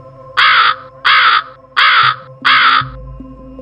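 Four loud, harsh crow caws in a steady rhythm, close by, followed by a quiet low hum.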